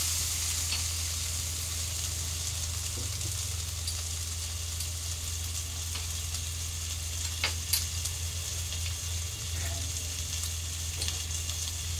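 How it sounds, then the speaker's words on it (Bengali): Spices sizzle steadily in a pan over a low gas flame, sautéed while being stirred, with a continuous close frying hiss and occasional faint scrapes, no talking. "সবগুলো একসাথে সুন্দর করে কষে নেব"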